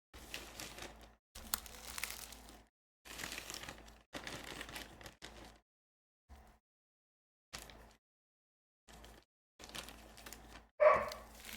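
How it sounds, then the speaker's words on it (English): A dog barks in short bursts separated by pauses, fairly faint and a bit distant, with one louder yelp near the end. "there goes the dog barking."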